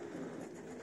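Soft, low pigeon cooing murmurs steadily throughout, close by and fairly quiet, with no talking.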